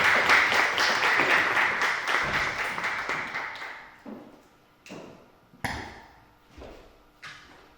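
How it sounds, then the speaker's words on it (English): An audience at a conference plenary session applauds, a full burst of clapping that fades away, followed by a few scattered separate claps. "So I'm sure you're happy to give Gerrie a round of applause"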